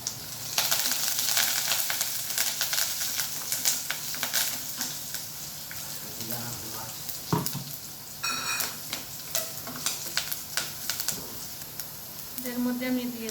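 Curry leaves frying in a hot pan for a chutney, a continuous hiss and crackle with scattered pops and stirring clatter, close and fairly loud throughout.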